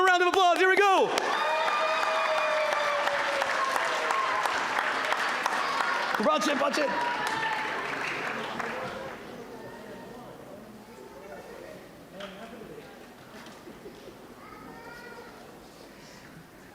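An audience claps at the closing ceremony of the USA Chidon Ha'Tanach national Bible finals, loud applause under an energetic announcer's voice that later fades to a quieter background while talking continues.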